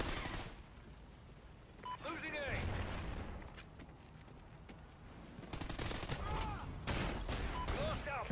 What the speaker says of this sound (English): Can I stop getting flashbang?